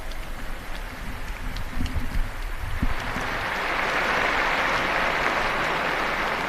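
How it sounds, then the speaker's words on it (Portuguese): Outdoor crowd applause at a papal Marian prayer as new blesseds are honored, starting patchy with some low rumble and knocks, then swelling into a steady, dense wash of clapping. "Um aplauso aos novos beatos."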